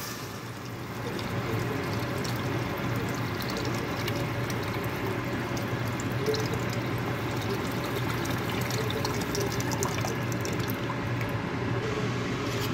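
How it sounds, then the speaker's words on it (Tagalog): Water is poured into a pot of chicken soup, producing a steady close splashing fill that keeps going after a brief quieter start, with no talk over it. "Tapos mag-add tayo ng water."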